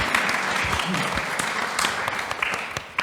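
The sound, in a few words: audience applause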